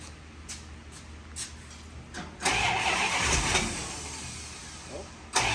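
A Dodge D100 truck engine cranks briefly, then catches at about two and a half seconds and settles into a loud, rough running roar close by, with a sharp knock near the end.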